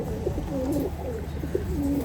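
Pakistani Giribaz high-flying pigeons coo in a low, rolling rhythm, two or three clear coos rising over a steady background hum, fairly close, with no talking.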